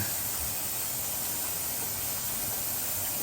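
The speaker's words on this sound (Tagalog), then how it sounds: "lalagyan natin ng mantika kasama na rin itong butter. Ayan, igigisa lang natin ng ganyan." Cooking oil and butter sizzle in a pan while pork apritada is sautéed, a steady broadband hiss holding constant and close throughout.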